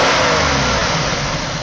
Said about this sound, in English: the engine load changes on a snap throttle